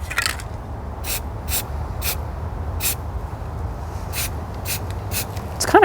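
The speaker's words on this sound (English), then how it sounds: "It's putting a lot of overspray on the planet there." Spray paint can hissing onto space-themed artwork, a series of short sharp bursts at irregular intervals over a low background rumble, no talking.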